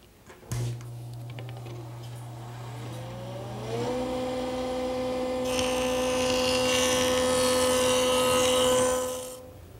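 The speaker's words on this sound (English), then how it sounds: "I'm going to bevel the bottom edge at 10 degrees using my joiner." A jointer bevels the edge of an oak board at 10 degrees. Its motor spins up to a steady whine, then a few seconds of rough, loud cutting noise follow before the pass ends and the sound drops away.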